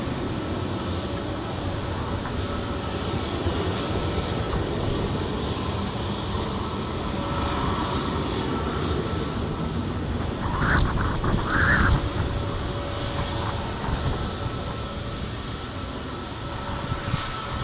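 EasyJet airliner taking off at Luton Airport, a steady distant jet roar rumbling continuously, with a few brief nearby knocks partway through.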